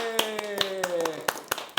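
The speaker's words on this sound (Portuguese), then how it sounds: "Uma salva de palmas já pra Elisa Veiga." A few hands clap for a guest arriving on a podcast, giving a sparse run of distinct, separate claps while a voice holds a drawn-out cheer over them.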